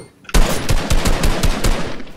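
Rapid automatic gunfire in a video game, a loud close burst of repeated shots in a fast, slightly uneven rhythm lasting about two seconds.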